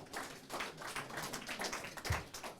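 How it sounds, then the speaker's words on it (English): An audience at a peace convention education session claps together in a dense, even patter of hand claps, fairly faint and steady for a couple of seconds. "let's give them a big round of applause"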